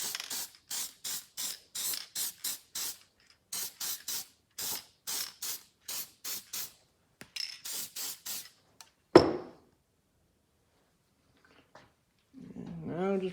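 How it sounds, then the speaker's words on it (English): An aerosol can gives a rapid run of short, sharp hissing bursts, close and distinct, while coating a golf cart engine's cylinder head, followed by a metallic clunk, quiet, and a voice speaking at the end. "We will also spray the head."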